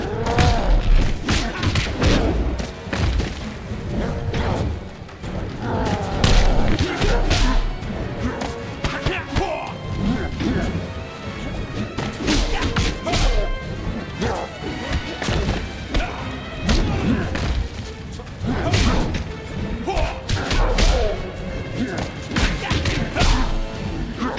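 Punches, kicks and body slams land in a Mortal Kombat 9 ladder fight with Johnny Cage, a dense run of heavy thuds, smacks and crashes repeating rapidly and loudly over the whole stretch.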